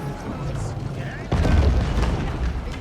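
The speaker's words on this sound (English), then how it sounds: "And the wall's been broken." Trebuchets break through a stone wall in a video game, a deep heavy boom with rumbling crumble landing partway through, while a commentator talks over the action.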